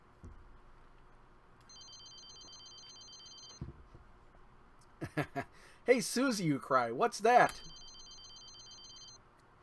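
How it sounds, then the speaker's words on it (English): Telephone ringing from the ceiling in the video game Leisure Suit Larry 3, faint repeated electronic ring bursts at the start and again near the end, with a character talking in between. "The phone's coming from the ceiling for some reason."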